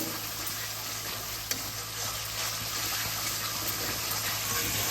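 Cashew paste frying with spices in a vegetarian Bengali doi potol dish, a steady close hiss of sizzling with scraping stirring throughout, one brief clink near the start, and no talking.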